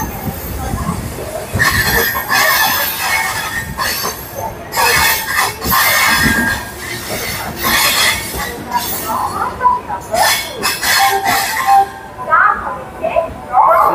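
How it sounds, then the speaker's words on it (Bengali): Titlagarh Ispat Express 12871 rolls into Kharagpur station, wheels squealing and carriages clattering loudly and continuously close by, with voices mixed into the rail noise. "আমাদের ট্রেন এই খড়গপুরে ঢুকছে"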